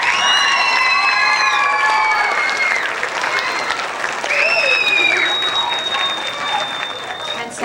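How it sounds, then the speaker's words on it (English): Audience applause and cheering fill a school jazz concert, a sustained, loud wash of clapping with shouts and whistles over it, easing slightly midway and then swelling again. "Give them one more round of applause."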